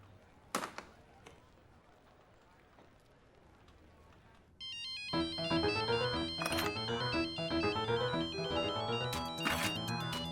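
A mobile phone ringtone goes off in a family sitcom scene, starting abruptly halfway through as a loud, bright, repeating melody after a quieter stretch with faint background sound.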